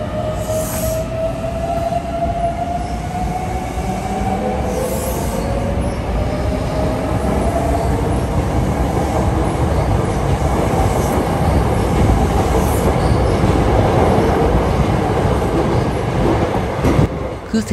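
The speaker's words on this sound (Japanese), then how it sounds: "準急電車が茨城市駅を発車。" A Hankyu Kyoto Line semi-express train pulls away from a station platform with a rising rumble and rolling wheel noise, a squeal of metal early on, growing louder and closer throughout.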